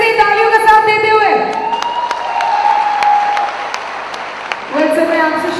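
An audience at a Safe Shop recognition event breaks into applause, with a broad clapping wash running under an amplified voice and music that fade out, then return near the end.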